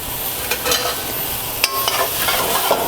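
Scallions or green onions sizzle and get stirred quickly in hot oil in a pan for beef fajitas: a steady close frying hiss with scraping stir strokes over it and no voices.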